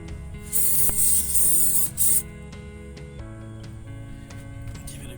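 A loud, forceful hiss of an SCA Heavy Duty Lanolin aerosol spray can, two bursts in quick succession, followed by quieter background hum.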